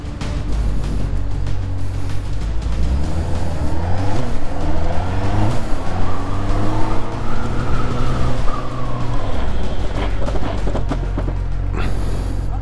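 A car brakes hard during a driving lesson and the front ABS kicks in, its loud engine drone sweeping in pitch while tires scrub and squeal close by, with continuous road and cabin noise throughout.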